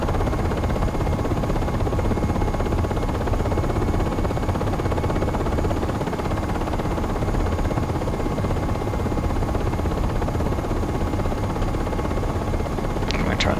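UH-60 Black Hawk helicopter in the Aerofly FS 4 flight simulator, a steady dense rotor and turbine drone climbing toward about 500 feet at roughly 90 knots, loud and continuous with no speech.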